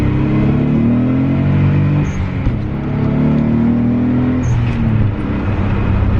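A Nissan 300ZX twin turbo pulls hard in second gear, its engine drone rising steadily in pitch, easing briefly, then climbing again, loud and close from inside the car.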